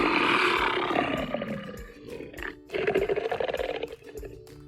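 A lion lets out deep, rumbling roars, loud and close, in two long surging bursts followed by shorter grunting calls, with no other sound around them.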